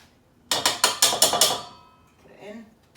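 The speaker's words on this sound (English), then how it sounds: "I'm just going to zest a little bit of orange into that" An orange rubbed quickly against a fine zester for a chocolate orange fondant: six rapid, crisp scraping strokes in a tight burst, then fading to a faint low murmur.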